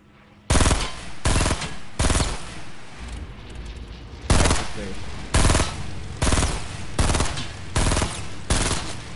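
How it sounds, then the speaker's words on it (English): Fortnite gunfire cracks out as a series of loud, sharp shots, about nine of them, spaced unevenly with short pauses between, some doubled up, over a faint game background. "I'm fucking shooting the hell out of this dude"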